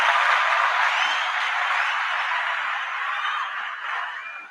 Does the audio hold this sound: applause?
yes